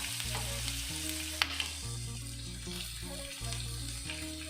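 Ginger, garlic and chillies fry in a pan for a Kerala green peas kurma, a steady close sizzle with occasional stirring scrapes and a brief clink.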